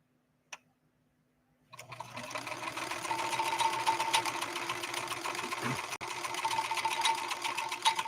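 A 1970s Kenmore 158.13520 sewing machine starts after a brief tap and runs a diamond stitch, a close, steady rapid mechanical whir and clatter with one short break midway before continuing.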